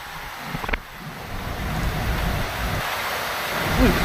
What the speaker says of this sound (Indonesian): Waduh, angin kencang.